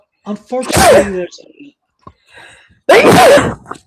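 A loud, close sneeze bursts out right after a brief spoken word, followed by a second forceful sneeze a moment later, during a history livestream.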